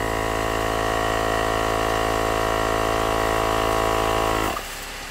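An electric tyre inflator pump runs loud and steady with a buzzing mechanical hum for about four and a half seconds, then cuts off abruptly, leaving quieter background.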